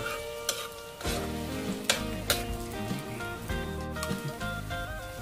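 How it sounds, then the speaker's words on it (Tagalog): Garlic sautéing in hot annatto oil at the start of a chicken afritada, a continuous close sizzle broken by several sharp clinks of a utensil against the pan and steady stirring. "Ilagay ang bawang, igisa hanggat sa ito ay bahagyang pumula."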